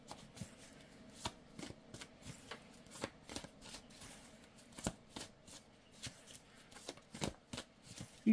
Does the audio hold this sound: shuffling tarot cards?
yes